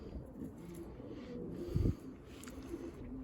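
Pigeons coo faintly in a low murmur against a steady background hum, with one louder, brief burst of cooing near the middle.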